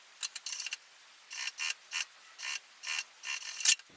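A sewing machine runs in short bursts while stitching cotton bias binding along the edge of a bag, with quiet mechanical whirring and clicking between the pauses.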